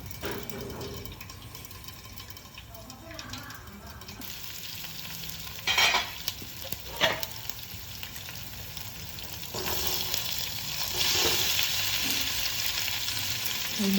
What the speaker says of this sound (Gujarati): સૌ પહેલાં આપણે મરચાં, તલ ને બધું નાખીને ઢાંકણું નાખીને બરાબર હલાવી નાખીશું